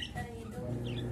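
A pet lovebird gives a brief, quiet chirp, a short high call rising over a soft background hum.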